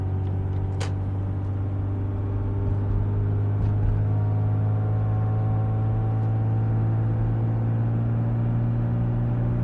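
A 1990 Jaguar XJ40 Sovereign engine hums while driving at around 2400 rpm, a steady, even drone with a low tonal whine heard from inside the car, a brief click near the start.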